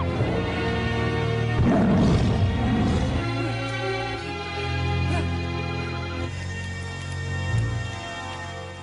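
Tiger roaring in the film Sming, a deep growling roar that swells and fades twice over a sustained musical score, with no talk.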